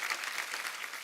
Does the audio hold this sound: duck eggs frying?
no